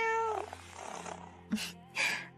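A kitten meows up close. A drawn-out meow with falling pitch opens, followed by two sharp, louder meows separated by short gaps.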